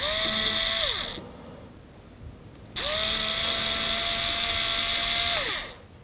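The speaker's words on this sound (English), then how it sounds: "used a small electrical screwdriver like this one here, okay? Just a small, it will do the job, because this is rubber, so it's really, really easy to drill a hole in" Small electric screwdriver drilling a hole in a rubber grill panel, two high whining motor runs that rise and sag in pitch, the second longer, separated by a short quiet pause.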